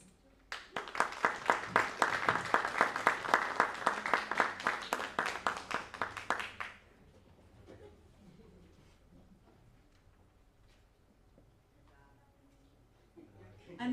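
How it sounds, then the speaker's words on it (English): An audience at a school reclassification ceremony claps in a lively burst lasting several seconds, then stops abruptly, leaving a quiet room with faint shuffling and murmurs. "Another round of applause, please"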